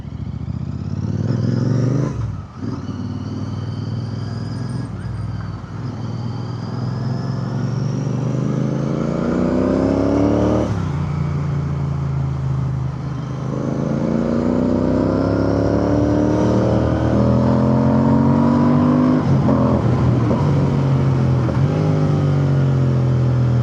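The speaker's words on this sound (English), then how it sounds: "That growl, that beautiful exhaust." A Royal Enfield Interceptor 650 twin-cylinder motorcycle revs up close, its engine and exhaust growling in rising, falling sweeps that climb in pitch and grow louder toward the end, with no talk.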